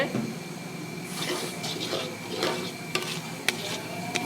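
Spoon scraping and stirring spice paste in a pan while cooking a boal fish curry, soft irregular scrapes and light clinks at close range over a faint sizzle.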